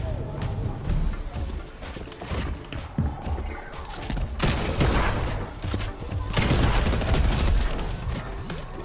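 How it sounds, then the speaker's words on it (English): Rapid bursts of web-shooter fire in a Spider-Man style action video game, a busy run of sharp snapping shots and thuds over background game noise, with a player talking over parts of it. "first time with the web shooters in action"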